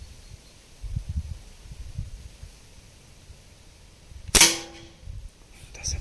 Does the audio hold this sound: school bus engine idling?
no